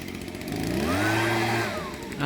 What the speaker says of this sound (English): once he's finished the portion of whippersnipping that he's doing at the moment